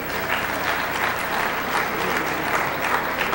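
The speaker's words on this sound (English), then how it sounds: "Now let's applaud for Sears." Audience at a radio hall of fame induction ceremony applauds warmly, an even, sustained wash of clapping from a large room with no voices over it.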